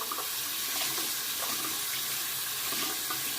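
Tap water running into a sink while a makeup blender sponge is wetted, a steady soft splashing stream at moderate distance with faint irregular dabs, no one speaking.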